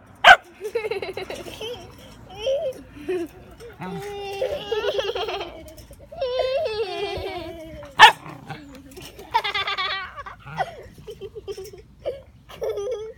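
Several corgi puppies yip, whine and whimper in bursts, with a couple of sharp louder barks, close by and fairly busy throughout.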